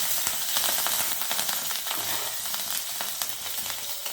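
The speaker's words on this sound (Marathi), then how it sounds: "हिंग पावडर कडीपत्ता हिरव्या मिरचीचे तुकडे याला छान हलवून घेऊ" Asafoetida, curry leaves, cumin, mustard seeds and green chilli pieces crackle in hot oil for a bhindi bhaji, a dense close sizzle with quick popping and stirring scrapes throughout, no voices.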